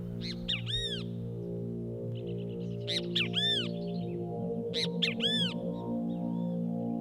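Agitated crows in highland countryside, disturbed by a nearby cat, give loud harsh caws in three separate bursts of several calls each, over a steady low background hum.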